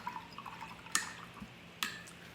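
A paintbrush is rinsed in a cup of water between colors during a beginner angle-brush painting session, giving a few soft drips and light splashes, with two brief sharper sloshes, quiet and close with no talk.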